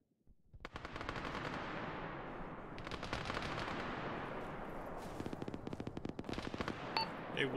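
Heavy machine gun fire in the military video game Arma rattles in long sustained bursts after a quiet start, then breaks into choppier strings of rapid shots toward the end.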